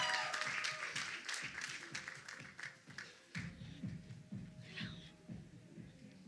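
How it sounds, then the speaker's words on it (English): Applause breaks out from the audience at a women's empowerment conference as a speaker walks on stage. Quick, quiet claps fade into shuffling and low thumps, with faint voices in the background. "Let's give her a round of applause as she comes on stage."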